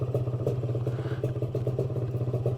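Engine idling on a CASA SST 265, a close, loud, steady pulsing chug with an even rhythmic beat and light mechanical clatter, no talk.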